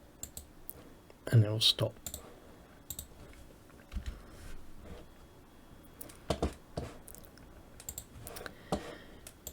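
Computer keyboard keys and mouse clicks while working in AutoCAD, a scattered run of sharp taps and clicks in small clusters, close and moderately loud, with someone speaking briefly between them.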